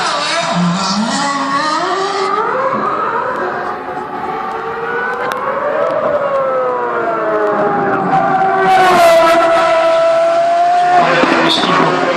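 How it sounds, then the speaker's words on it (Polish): A Formula 1 car accelerates away on a lap after a pit stop with fresh tyres, driving around a Warsaw square; loud, sustained engine whine rises and falls through the gears, with crowd and commentary noise underneath and tyre squeal near the end. "Felipe Massa rozpoczyna kolejne okrążenie."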